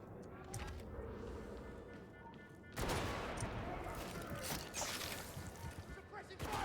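Rapid gunfire in the video game Darktide, dense crackling bursts of suppressing fire that grow louder and more sustained partway through, mixed with game noise.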